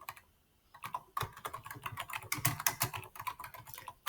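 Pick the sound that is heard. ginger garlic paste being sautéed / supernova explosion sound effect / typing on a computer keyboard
typing on a computer keyboard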